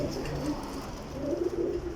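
A Sialkoti pigeon cooing close by, soft low throaty coos rising and falling over a quiet background hum, repeated a few times in a short run.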